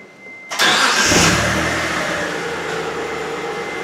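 A manual-transmission car in an alignment shop cranks and catches, roaring up with a quick rev before settling into a steady idle that keeps running close by.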